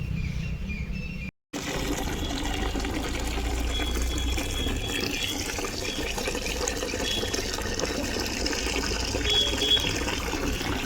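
Water pouring steadily from a tap into a large bucket to soak bedsheets, a continuous close rushing fill that stops briefly near the start and then runs on unbroken.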